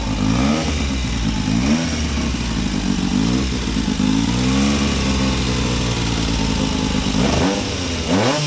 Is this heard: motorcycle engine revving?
yes